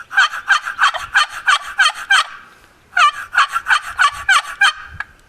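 A rapid series of loud, raspy turkey gobble notes made on a world-champion wooden box call, two bursts of about eight yelps each separated by a short pause, played alone close up.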